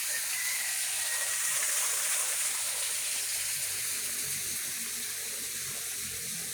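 Steady rushing spring water flows continuously, a bright hissing stream close by with no voices.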